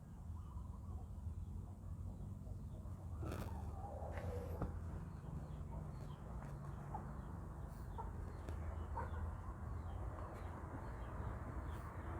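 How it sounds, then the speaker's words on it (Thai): Chickens on a small farm flock of about a dozen birds cluck intermittently at feeding time, moderately close, over a steady outdoor background hum with no talking. "ผม จะพามาให้อาหารไก่ นะ ครับ"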